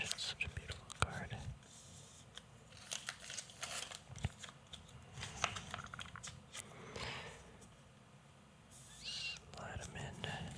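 New trading cards sliding into fresh card sleeves, soft close plastic swishes and crinkles in short bursts, with whispering throughout.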